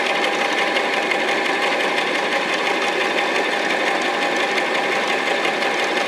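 A sewing machine runs steadily as fabric for a school uniform skirt is stitched, a dense, continuous whirring buzz held close and loud throughout, with no voices.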